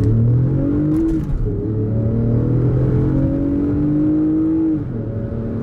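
A 2019 Lexus RX 350 F Sport with a 3.5-liter V6 accelerating hard from 0 to 60, engine note climbing in pitch through a few gear shifts, loud and close, with no talking.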